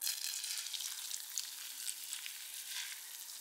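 Boiling water is poured over instant noodles, making a steady, bright hissing and splashing rush that runs unbroken for a few seconds, with no voices.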